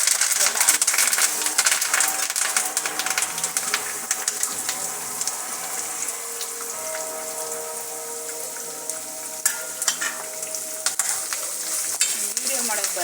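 Food fries steadily in a pan with a dense, continuous crackle and sizzle, close and fairly loud, while curry leaves are being added and a few stray clinks and stirs break through the hiss.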